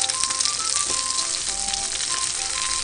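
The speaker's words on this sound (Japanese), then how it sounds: "蓋をして1分蒸し焼きです" Pork belly and eggplant sizzle and steam-fry under a lid in a pan, a steady close hiss with faint crackles and a few thin whistling tones.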